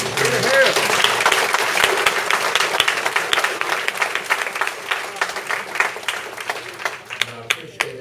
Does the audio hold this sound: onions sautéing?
no